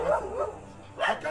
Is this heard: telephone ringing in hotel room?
no